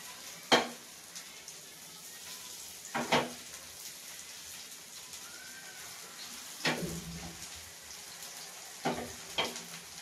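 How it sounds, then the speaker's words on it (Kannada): Sardines (boothai) frying in hot oil give a steady close sizzle, with a few sharp clatters of turning or stirring at irregular intervals. "ನಾನು ಮೀನು ಫ್ರೈ ಮಾಡೋದು ಈಗ, ಅಂದರೆ ಬೂತಾಯಿ ಫ್ರೈ ಮಾಡ್ತಾ ಇದ್ದೇನೆ"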